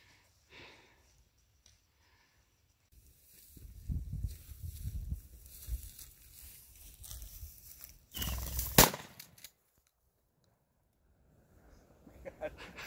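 A single sharp shotgun blast goes off while quail hunting in Soldier's Basin, Arizona, a loud brief crack near the end amid rustling movement and low voices.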